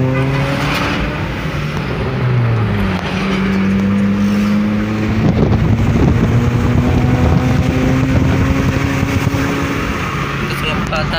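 A Toyota Calya fitted with a Spoon Sport racing exhaust accelerates hard, its loud, gruff engine note rising through the gears up close, with wind noise buffeting the microphone.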